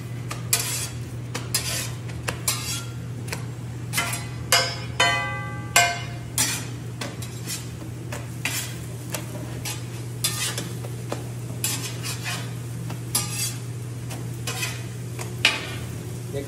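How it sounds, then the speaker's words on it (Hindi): Aloo paratha cooks on a pan with a little ghee, part of a meal for about seventy devotees: repeated metal clinks and scrapes over a steady low hum, with a faint sizzle underneath. "और ये आलू परोठा बन रहा है हमारा।"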